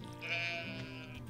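A sheep bleats once in the farming video game Stardew Valley, a single short, soft, wavering cry lasting about a second.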